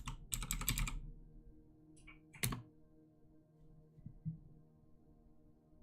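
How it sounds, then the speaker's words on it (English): Typing on a computer keyboard in an ASMR setting, with a quick burst of close key clicks, then a few scattered taps and softer presses against a quiet background. "Sorry for the typing, guys."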